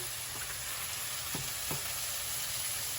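Ground beef fries in a pan with a steady, dense sizzle that holds at an even level, close by, broken by a couple of faint scrapes of stirring and no voices.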